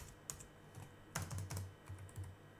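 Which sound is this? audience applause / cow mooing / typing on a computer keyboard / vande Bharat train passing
typing on a computer keyboard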